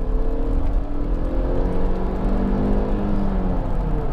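A Honda CR-V 2.0 i-VTEC SUV engine revs hard and smooth toward 7,000 rpm, a loud sustained rising drone heard from inside the cabin with no talking.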